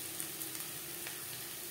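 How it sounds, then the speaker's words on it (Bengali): Onions fry in a pan for a note shak bhaja preparation, giving a steady, soft sizzle with faint stirring clicks and no talk over it. "পেঁয়াজ ভাজা হয়ে এসছে"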